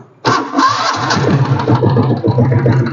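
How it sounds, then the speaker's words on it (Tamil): A restored vintage Royal Enfield diesel Bullet motorcycle cranks on its self-starter and catches, settling into a loud, close, thumping idle. "செல்ஃப் இப்போ நான் போட்டு காட்டுற பாருங்க."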